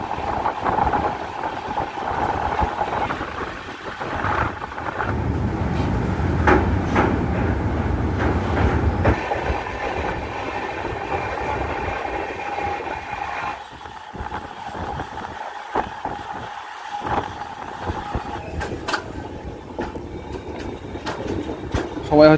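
An overnight train from Howrah to Puri rumbles along, a continuous rolling roar with faint rhythmic clatter, loud and close from inside the coach, with people talking over it at times.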